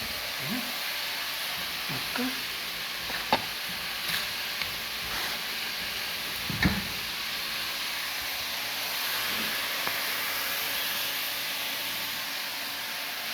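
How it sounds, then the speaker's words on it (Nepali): Fish sizzling as it starts to fry in hot oil, a steady broadband hiss that runs unbroken throughout, with a few soft knocks and clicks of handling on top. "यो चाहिँ माछा हो माछा फ्राई गर्न आँटेको"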